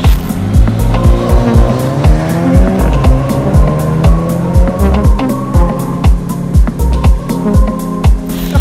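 An AMG car brakes hard in an emergency stop, its tires squealing loudly and continuously over a strong engine roar, with no talking.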